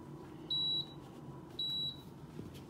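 A Power XL air fryer gives two clear electronic beeps about a second apart while its timer is being set for enchiladas, each a steady high tone over a faint kitchen background.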